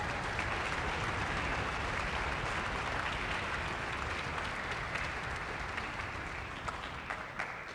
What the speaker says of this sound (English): Let's give him a round of applause as he comes out.